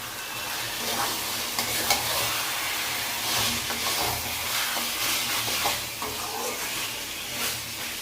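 Mutton with chilli powder and garam masala is sautéed in a pan, giving a continuous close hissing sizzle with frequent stirring scrapes and light surges, no voices over it.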